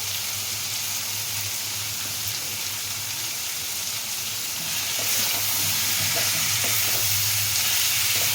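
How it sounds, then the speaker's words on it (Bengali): Pre-fried sweet pumpkin and potatoes tip into a spiced pan and sizzle loudly, the hiss swelling midway as stirring scrapes and clatters through it, close up and without talk. "আগে থেকে ভেজে রাখা মিষ্টি কুমড়ো আলুগুলো দিয়ে দিচ্ছি"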